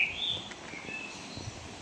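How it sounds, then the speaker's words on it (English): Blackbirds sing near a forest loch, a few bright whistled phrases carrying through a quiet woodland hush, moderately close. "The sounds of the blackbirds continue as I walk into the forest"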